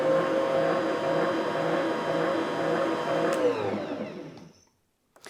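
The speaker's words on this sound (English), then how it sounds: "you're gonna turn your mixer on to get it mixed up just a little" An electric stand mixer whirs steadily, blending warm milk, sugar and yeast for cinnamon roll dough, a continuous motor hum that winds down and stops near the end.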